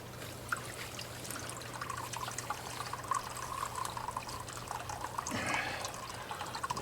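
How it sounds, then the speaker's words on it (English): Warm water is poured over the track connections of a garden railway, making a close, steady trickle and splash that swells briefly near the end. A low hum sits underneath. "with the warm water and the connections, you can just kind of soak it over the connection"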